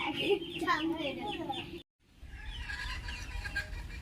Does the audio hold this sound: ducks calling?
yes